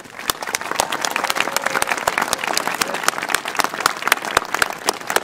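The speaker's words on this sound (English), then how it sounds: "Join me in giving them a round of applause." Sustained applause from a large audience at a college commencement ceremony, steady dense clapping with sharp individual claps standing out, carrying on for several seconds with no talking.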